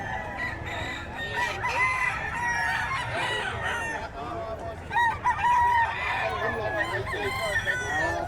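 A bull stag gamecock crows repeatedly amid the clucking and crowing of other roosters at a busy Friday pet market in Bocaue, a steady, loud, layered chorus of fowl.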